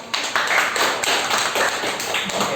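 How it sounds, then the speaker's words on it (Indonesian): Students in a classroom clap for a classmate, a short burst of scattered, uneven hand claps from a small group, close and fairly loud. "Yang lain beri tepuk tangan dong."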